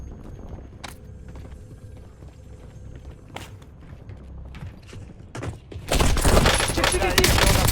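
Gunfire in Call of Duty Warzone: scattered clicks and shots early on, then from about six seconds a loud, sustained burst of firing fills the rest of the clip.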